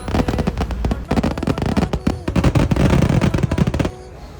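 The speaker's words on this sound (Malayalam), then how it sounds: "അതിഗംഭീരമായ ഈ സ്ഫോടനത്തോടു കൂടി കാവശ്ശേരി പൂരം ഈ വർഷത്തെ അവസാനിക്കുകയാണ്" A rapid barrage of fireworks explodes at a temple festival, Kavassery Pooram in Kerala, with dense loud cracks and booms piling into a continuous roar before cutting off sharply near the end.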